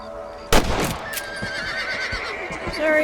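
A horse in the video game Red Dead Redemption gives a sharp, close whinny that tapers off, followed by hoof clip-clops and quieter in-game sounds, with a faint voice in the background.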